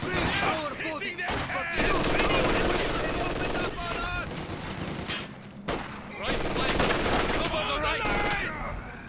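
Machine gun fire and explosions from the video game Company of Heroes 2 rattle in dense, overlapping bursts almost continuously, loud and close, with brief lulls between volleys and game voices underneath.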